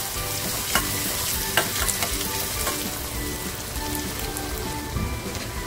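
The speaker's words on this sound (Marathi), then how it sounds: "कांदा आहे ना, आपल्याला हलकासा लालसर करून घ्यायचा आहे।" Onions sizzle steadily in hot oil in a pan as they cook to a light brown for a spicy prawn masala, with close, loud frying and occasional sharp clicks of stirring throughout.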